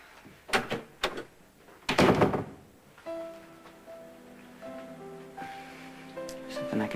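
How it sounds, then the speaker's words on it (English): A door closes with a few sharp knocks and thuds, then a louder bang, before soft music comes in behind. "Please close the door when you go out."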